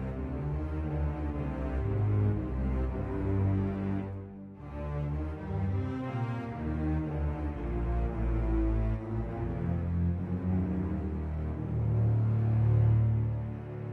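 Sustained, layered string chords play continuously, warm and full in the low and middle range, with slow swells and no voices.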